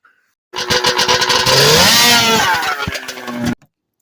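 A 100hp motorized bicycle engine fires up abruptly and runs loud and close for about three seconds, its pitch rising and falling with a rev before it cuts off sharply into silence.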